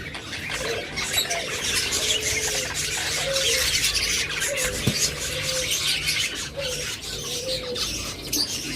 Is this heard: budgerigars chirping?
yes